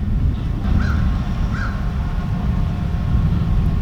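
Two short caws from crows sound in quick succession, faint and distant, over a steady low rumble of wind or machinery near a mountain chairlift.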